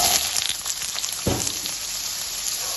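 Pointed gourd pieces fry in hot oil, giving a steady close sizzle with no talk over it and one brief louder crackle partway through.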